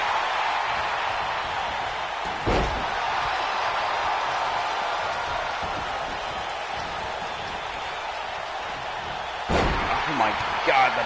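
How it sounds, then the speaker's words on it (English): A running bulldog slam in a tag team championship wrestling ring, heard as two separate heavy thuds several seconds apart, over constant crowd roar and commentary. "Running Bulldog to the Blade"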